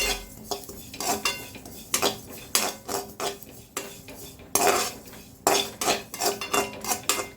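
Sesame seeds dry roasted in a kadai, stirred continuously with a metal spoon that scrapes and clinks against the pan in a steady repeating rhythm, loud and close, with a faint crackle underneath.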